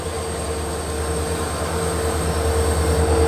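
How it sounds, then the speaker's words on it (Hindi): A WDG 4D diesel locomotive with the Bandra Ajmer special arrives nearby, a steady low diesel drone and rumble growing a little louder over a few seconds. "देखिए अजमेर स्पेशल जो है डीजल लोकोमोटिव के साथ यहाँ पहुँच रही है।"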